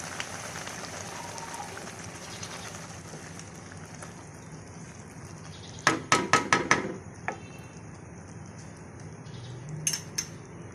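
Chickpea curry, Lahori chikar chana, is served from a pot with a spoon: a quick cluster of sharp metal clinks and scrapes midway, then a few more near the end, over quiet kitchen background.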